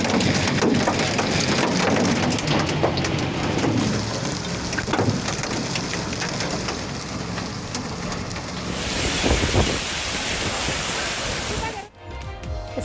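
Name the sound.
stormy rain with strong winds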